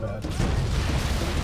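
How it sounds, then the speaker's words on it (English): Loud, dense rumbling blasts from big explosions in the game Halo: Combat Evolved, aboard the Pillar of Autumn, filling the whole clip as a continuous booming roar with speech-like noise mixed in. "Big explosions, nasty things."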